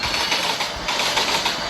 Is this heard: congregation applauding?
no